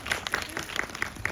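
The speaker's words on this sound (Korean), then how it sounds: "박수 보내주세요" Brief applause from the audience at a Korean film screening Q&A with actors, a short burst of clapping with a few sharper individual claps standing out.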